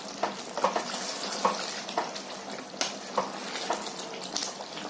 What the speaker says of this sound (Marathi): कांदा टोमॅटो टाकलाय ना ते आपल्याला चांगली त्याच्यामध्ये फ्राय करून घ्यायची आहे